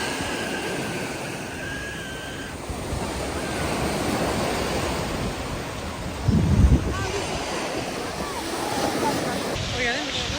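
Waves wash onto the beach at Tipaza, Algeria, in a continuous roar mixed with gusty wind buffeting the microphone, with a brief louder thump partway through.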